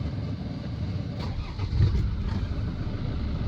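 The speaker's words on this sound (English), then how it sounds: "let's take this 2007 Defender 90 TDCi XS station wagon for a spin" A 2007 Land Rover Defender 90 TDCi XS station wagon diesel engine turns over and catches, a steady low rumble that swells briefly as it fires and then settles into a loud, close idle.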